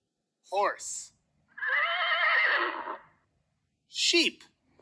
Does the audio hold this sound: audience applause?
no